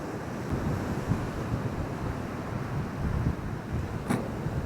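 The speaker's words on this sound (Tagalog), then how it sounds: "Malakas yung hangin at saka malaki yung mga alon." Steady roar of wind buffeting the microphone over the rush and crash of big waves, continuous and loud with no voices.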